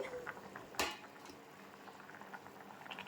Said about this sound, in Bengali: দেখো মাছের ঝোল ফুটে গেছে আর সব কিছু সেদ্ধ হয়ে গেছে